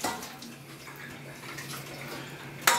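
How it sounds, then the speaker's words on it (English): Pasta water is poured into a pan of sauce, a soft, steady watery hiss and trickle up close that ends with a brief splash. "I'm just putting a little bit of water in the pan there with the sauce"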